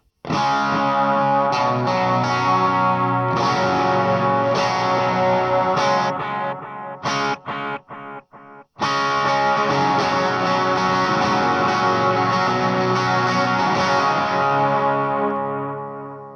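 Electric guitar strums and chords run through an AC30 amp simulation pedal on a pedalboard, crunchy and full, with a stretch of choppy muted hits in the middle before the strumming resumes and sustains.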